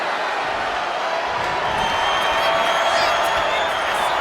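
A dense, steady wash of crowd roar and cheering from a wrestling arena in the WWE 2K25 video game, loud and continuous with no clear breaks, like a packed stadium crowd worked up during a match.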